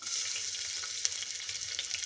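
Finely chopped onion fries in hot oil in a cooker, giving a steady bright sizzle throughout with a single sharp crackle pop near the middle.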